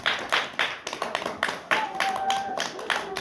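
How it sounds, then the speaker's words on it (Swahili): A group claps hands together in a classroom, a string of crisp, fairly loud claps in irregular bursts, with a faint voice and tonal sound partly underneath. "Tupige makofi."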